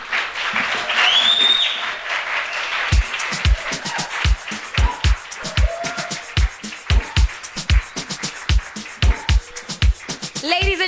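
Audience applause and cheering at a music awards ceremony honouring a Hall of Fame winner. A dense wash of crowd noise opens the clip, then steady rhythmic clapping with sharp hand claps runs throughout, with voices mixed in.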